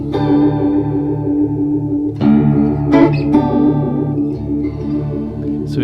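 An Enya NEXG 2 electric guitar plays chords ringing out with a swirling modulation effect, adding a wavering, shimmering quality; a few strummed changes, played alone and fairly loud.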